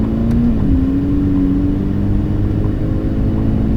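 Ferrari 488 GTB engine pulling steadily in second gear after an upshift, a sustained near, loud drone with a rising tonal whine, no talk over it.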